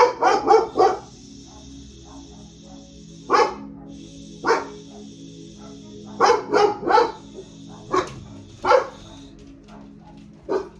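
Dogs bark close by in sharp bursts, a quick cluster at first, then scattered single barks and short runs spread over several seconds.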